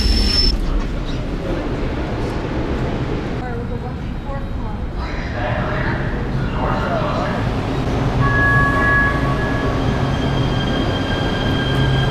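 Aboard a Los Angeles Metro A Line train in an underground section, a steady loud rumble of wheels and carriage fills the whole stretch, with thin squealing tones rising near the end.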